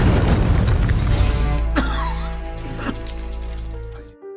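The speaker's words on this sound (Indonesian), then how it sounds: "meledakkannya bersamaan dengan bom mobil di penjara mereka" A deep, heavy explosion from a car bomb and a blown gold vault in a prison heist film booms loudly at the start, then rumbles and decays with scattered debris cracks before cutting off.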